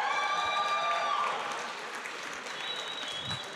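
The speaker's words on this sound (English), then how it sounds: "can we give them all a round of applause?" Audience applause for companies at an angel investor summit, sustained crowd clapping with a few whoops and voices, even and continuous from start to finish.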